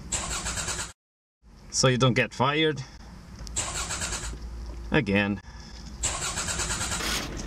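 A diesel car engine starting and running on homemade biodiesel rendered from human fat, with broadband engine roar coming in bursts between stretches of close, loud talking.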